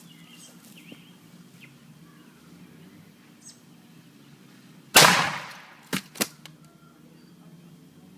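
A laptop blown up by an explosive: one sharp, loud blast with a rushing decay, followed about a second later by two smaller pops, all against a quiet outdoor background.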